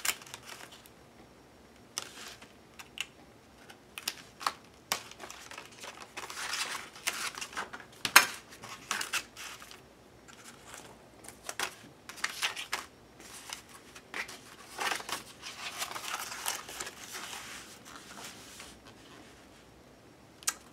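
A paper window in an altered book is cut out with an X-Acto knife on a cutting mat, giving quiet, irregular scratchy scraping and short clicks that come and go over about twenty seconds, close by and without talk.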